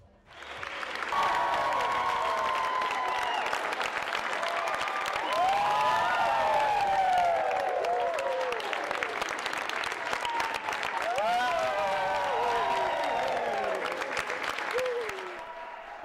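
A crowd claps and cheers as the first customer walks into the IKEA Sørlandet store on opening day. Sustained, loud applause mixed with whoops and voices rolls on for about fifteen seconds before tapering off.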